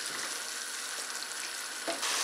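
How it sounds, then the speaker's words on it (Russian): Garlic and green beans fry in a pan: a close, steady crackling sizzle that runs continuously, with a slightly louder burst near the end. "Еще немножечко жарим, чтобы у нас чесночок немножечко не был таким"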